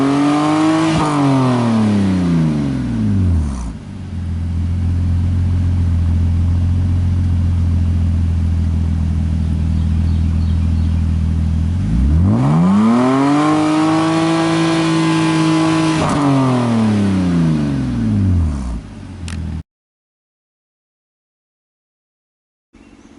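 A BMW 328i with a custom exhaust revs hard several times, rising and falling in pitch over a steady idle, with a deep, throaty exhaust rumble and quiet pauses between revs.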